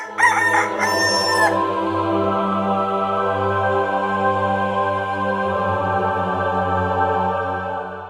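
A rooster crows once, loud and close, its call rising and then falling in the opening second and a half, with a steady hum from what sounds like a sustained backing tone continuing underneath.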